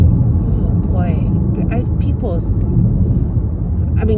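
A loud car engine rumbles steadily throughout, sounding like a noisy vehicle driving by up close, with no clear rise or fall in pitch; people talk briefly in the background.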